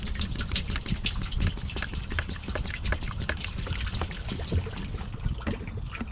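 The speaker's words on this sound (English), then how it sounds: "I'm just gonna pour about half of this into here." Liquid cleaner is poured into a 20-gallon boat livewell, giving a steady close trickle and splash with irregular droplet ticks running throughout.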